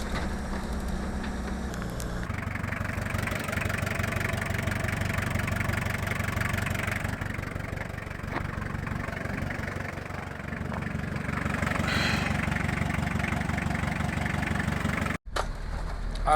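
A 4WD vehicle's engine labours steadily in first gear while climbing an extremely steep mountain road, a continuous low droning rumble that holds even throughout, with a brief dip near the end.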